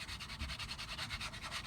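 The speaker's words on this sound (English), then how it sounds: "I recommend you do use some sandpaper to sand this down." Sandpaper rubbed by hand over a wooden bat handle, quiet rhythmic back-and-forth strokes with no one talking.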